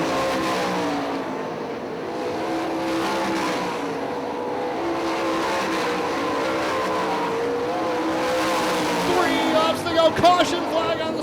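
Sprint race cars lap a dirt oval at Hartford Speedway Park in Michigan, a dense continuous engine roar from heavy lap traffic with rising and falling revs, and an announcer talking over it throughout.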